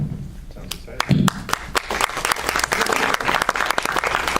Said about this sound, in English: Thanks for the applause, guys, I appreciate it.